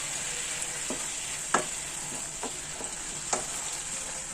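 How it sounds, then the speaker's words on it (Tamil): Yellow pumpkin poriyal is stir-fried in a pan, giving a steady close sizzle with several sharp scraping spatula strokes spaced through it, no voices. "மஞ்சள் பூசணிக்காய் பொரியல் கண்டிப்பாக செய்வோம்"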